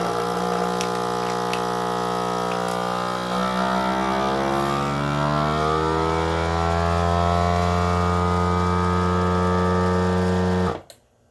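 Vacuum sealer pump drawing air from a pantry food bag before sealing, a loud steady motor drone with a tonal whine that rises in pitch as it works, then cuts off abruptly at the end, with no talking.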